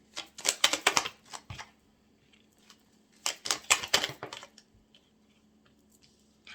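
Tarot cards shuffled and drawn one at a time during a reading: two clusters of crisp, close papery riffles and flicks, each lasting about a second and a half, separated by near silence.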